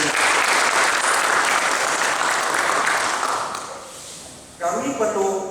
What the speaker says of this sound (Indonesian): kita aplaus untuk Pak Haji Husni